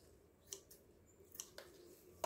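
Scissors snipping plant stems while repotting and dividing an areca palm, about five short, crisp cuts spaced irregularly, quiet and close with no talking.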